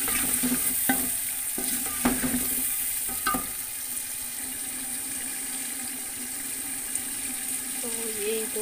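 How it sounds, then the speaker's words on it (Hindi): Ingredients roasting in a pot of oil for matar pulao make a soft continuous sizzle, with a few sharp spoon clinks and scrapes early on and a faint background hum. "भून लेंगे हम 2 मिनट के लिए।"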